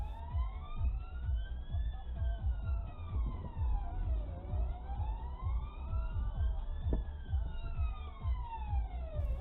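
An ambulance siren wails in a steady rising and falling sweep, heard from inside a moving car with road and engine rumble beneath it.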